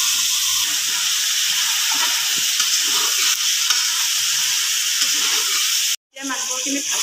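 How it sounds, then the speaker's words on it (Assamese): Local chicken pieces fry in a hot pan with a loud, steady sizzle and hiss. The sound drops out briefly near the end, then returns with stirring. "এইখিনি মই এতিয়া অকণ ভাজি লওঁ"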